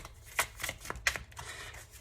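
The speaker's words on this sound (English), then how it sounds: "just a little bit more on how I shuffle my cards" Tarot cards are shuffled by hand in a few soft, quick riffles and slides, close and quiet, with no talking.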